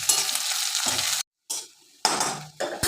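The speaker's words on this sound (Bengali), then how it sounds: "পেঁয়াজটাকে আমি লাল লাল করে ভেজে নেব।" Chopped onions and green chillies fry in a wok, a close, crackling sizzle broken by stirring scrapes, cutting out to silence twice in short gaps before resuming.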